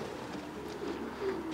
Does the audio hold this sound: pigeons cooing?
yes